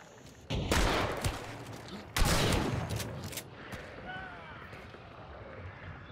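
Two loud blasts from a Flechette shotgun in Hunt: Showdown ring out a couple of seconds apart, each followed by a fading rumble, with someone speaking over the shots.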